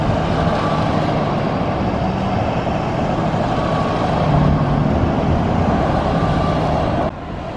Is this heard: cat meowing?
no